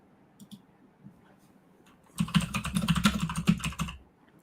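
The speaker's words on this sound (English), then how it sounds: "You can hear my angry typing here." Fast, forceful typing on a computer keyboard, a quick close run of sharp clicking keystrokes lasting about two seconds after a few scattered taps, with no voices over it.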